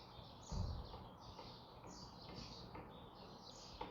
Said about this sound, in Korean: 새소리가 들려오고